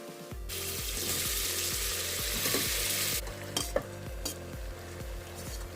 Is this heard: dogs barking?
no